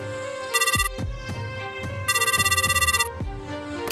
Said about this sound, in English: The phone won't stop ringing.